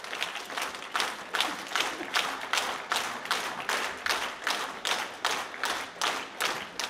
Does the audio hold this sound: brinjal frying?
no